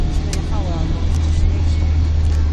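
Cars pass along a city street among buses and trams, a steady close traffic rumble with engine drone throughout and a voice talking over it.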